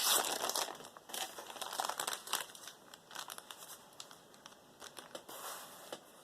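A crinkly cereal box liner being handled and cut to size for a junk journal page, giving close crackling and rustling with irregular snips and crunches, fairly quiet, with no talking.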